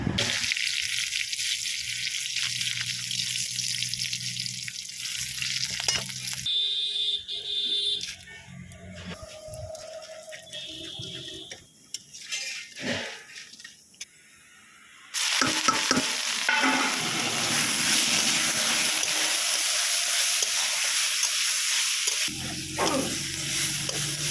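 Lentil dumplings (bori) frying in a wok, loud sizzling at the start and again in the second half, broken by a quieter middle stretch of clatter and running-water sounds.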